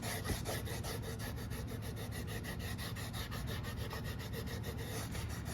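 Brown and white sharpening compound is rubbed onto a wooden stropping board in a quick, even back-and-forth rhythm of close, dry scrubbing strokes that continues throughout with no talking.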